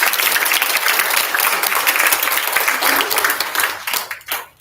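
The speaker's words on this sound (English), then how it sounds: "So a round of applause for you guys." A group gives a round of applause to a youth leadership training camp planning team, dense steady clapping from a crowd that thins and tapers off near the end.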